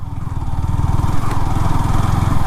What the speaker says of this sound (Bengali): আমরা এখন ইন্ডিয়ার মাটিতে বাইক চালাচ্ছি